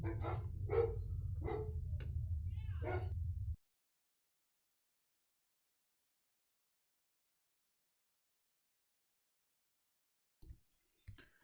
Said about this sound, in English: Of course, the dog can't keep his damn mouth shut.